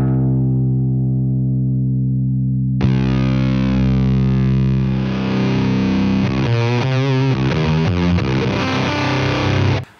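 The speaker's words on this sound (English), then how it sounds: "So that's the kind of fuzz tone I've quickly dialed in." Electric guitar through a Preamp Mark II pedal set for fuzz: a sustained low chord rings, then a thick, saturated fuzz tone swells in and holds loud with shifting notes for several seconds.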